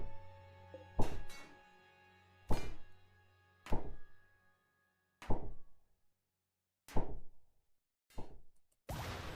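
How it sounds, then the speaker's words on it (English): Machine railgun turret in the Rimworld game firing in heavy single booming shots, seven in all, each a sharp blast with a ringing decay, spaced about a second apart and loud. "Lastly, we have the machine railgun turrets"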